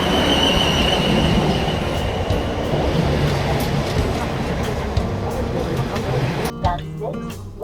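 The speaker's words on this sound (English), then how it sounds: "So we're going to head down on the train, see what's on offer." Train riding the rails on a day trip to Portsmouth, a loud steady rumble with wheel squeal and clatter throughout, sharp clicks near the end as it slows, a voice faintly under the noise.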